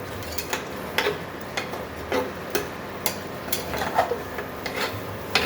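A spoon scrapes and rubs in repeated strokes through mutton and masala being bhuna-fried over a low flame in a pot for Bengali-style mutton curry, steady and close with soft sizzling underneath.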